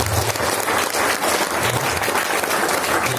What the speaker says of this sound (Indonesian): Tepuk tangan buat Pak Fajar.